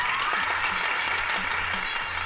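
Onlookers applaud a magician's vanishing-egg trick in a comedy scene, a continuous crowd clapping at a fairly loud, even level with a low hum underneath and no speech.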